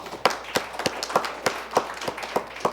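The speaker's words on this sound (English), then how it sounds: "Give them a round of applause." Steady, evenly spaced hand claps repeat about three times a second, crisp and close, like a small group applauding.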